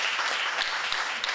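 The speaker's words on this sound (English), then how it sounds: "Just one more round of applause." An audience at a discussion event in the Oxford Union gives a short, dense burst of applause, loud and continuous throughout.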